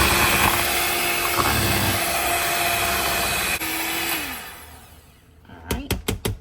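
An electric hand mixer whirs steadily and loudly through a pudding and cream cheese mixture, then winds down and stops, followed by a few quick knocks as the beaters are tapped.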